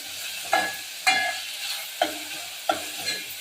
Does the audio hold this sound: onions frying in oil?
yes